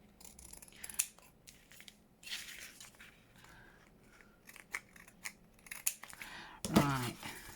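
Scissors trim paper for a junk journal page, making close, crisp snipping and crunching cuts in short irregular bursts with quiet gaps between them.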